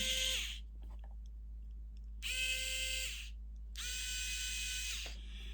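A VeroLith E3 electric smart screwdriver drives a T20 Torx screw, its motor whirring in two close, steady bursts of about a second each, with a shorter start at the beginning and quiet pauses between.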